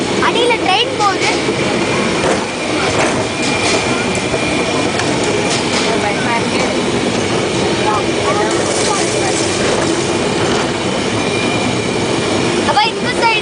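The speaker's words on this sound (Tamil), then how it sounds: "அப்ப இங்க அடியில ட்ரெயின் போகுது." A ride train at the Maharaja World amusement park in Coimbatore rumbles and clatters past underneath, loud and continuous with wheel squeal, while people's voices are heard nearby.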